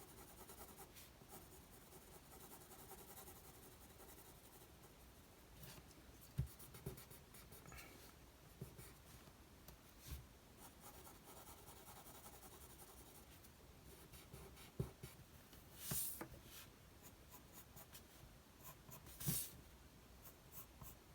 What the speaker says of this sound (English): We'll draw the lines back in.